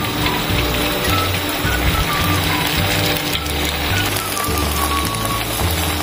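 Sausage pempek frying in hot oil gives a steady, dense crackling sizzle like heavy rain, continuous and fairly loud throughout, over a low background rumble.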